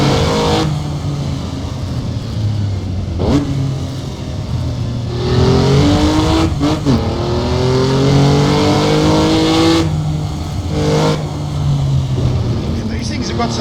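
A race car in a racing simulator, Targa Florio 1973, screams at wide open throttle, its engine note climbing through the gears with brief dips at each shift, loud and close, while a voice talks over it.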